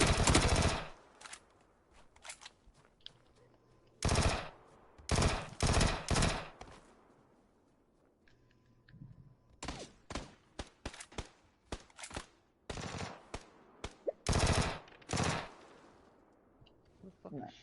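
Video game gunfire aimed at the player: loud, close bursts of rapid automatic shots in repeated clusters, separated by short quiet gaps and fainter distant shots.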